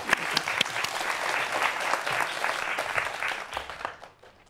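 Audience applause fills a lecture hall as a robotics professor is welcomed to the stage, dense steady clapping from a crowd that fades out at the end.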